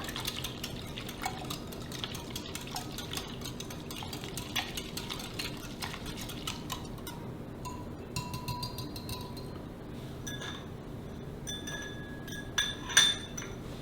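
Cake ingredients with cinnamon are stirred together in a glass bowl for an apricot kuchen, giving repeated light clinks and taps of a utensil against the bowl over a soft steady background, with a louder clink near the end and no talk.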